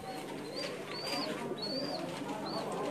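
A Heera Lal pigeon coos in repeated soft, rolling calls at close range, several short phrases spaced about half a second apart over a low background hum.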